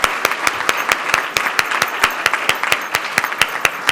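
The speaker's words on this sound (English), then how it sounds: "Give him a big round of applause." Loud, steady applause from an audience at Camp Enterprise, with quick overlapping claps repeating without pause as a speaker is honoured.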